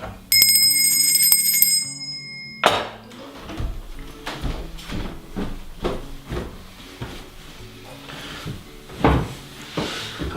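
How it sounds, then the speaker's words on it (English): An oven timer bell rings steadily for a couple of seconds, then gives way to kitchen clatter of dishes, cupboards and utensils knocking about. "Bell means it's pizza time and I'm ready."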